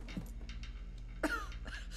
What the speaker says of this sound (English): Oh, he's coughing.